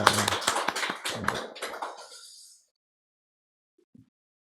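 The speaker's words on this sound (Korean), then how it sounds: "환영하는 박수 하도록 하겠습니다" Brief applause from a church congregation welcoming visitors during a Sunday service, a burst of dense clapping that tapers off after about two and a half seconds, followed by near silence with a couple of faint taps.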